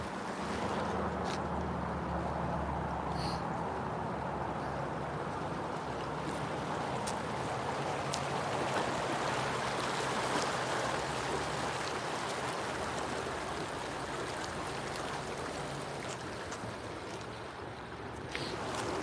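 The St. Vrain River in Lyons, Colorado rushes past in a steady, close, unbroken roar of flowing water, with no one speaking.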